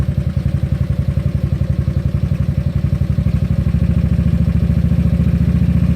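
A GY6 scooter engine idling then revving as the throttle is twisted, a loud, close, rapid pulsing putter that rises slightly in pace and intensity toward the end, with no voices.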